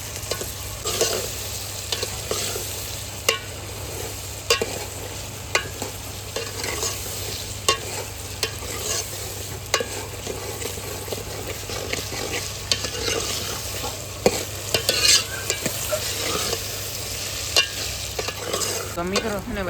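Aubergine mixture for ringan no olo frying in a pan while being stirred, continuous close sizzling with frequent scraping and clattering stir strokes, a steady low hum underneath and no voices.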